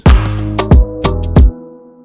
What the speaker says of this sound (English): just 2 claps, layered them, and then I put them inside track 10 and put some reverb on that